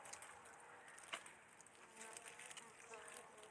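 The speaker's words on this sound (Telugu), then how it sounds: "చూసారా ఈగలు ఎలా వస్తున్నాయి" Wild honey bees buzz close by in a forest, a soft steady droning hum with insects flitting past, faint and without talk.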